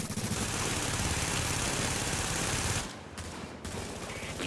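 Automatic gunfire in the video game Rogue Company comes as dense, rapid bursts over a game engine drone, stopping briefly near the end before resuming more softly.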